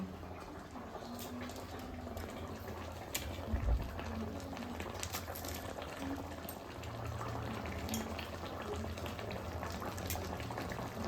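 A pot simmering and bubbling on a stove with green chillies added, a steady low bubbling and hiss with small pops, heard fairly quietly throughout.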